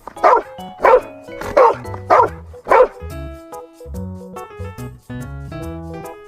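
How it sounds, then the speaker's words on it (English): Five sharp, high-pitched yaps from a small toy dog come in quick succession, followed by a tinkly electronic melody playing on its own. "it's a cute little puppy"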